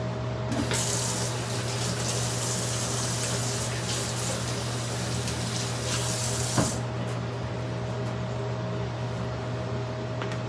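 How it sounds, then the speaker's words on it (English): Tap water runs steadily into a kitchen sink as hands are washed, a loud, close rush lasting several seconds before it shuts off and leaves quiet room tone. "And gotta wash my hands."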